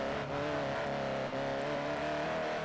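A small BAC Mono car engine hums steadily with a buzzy, slightly rising tone in the video game Forza Horizon, driving along with no talking.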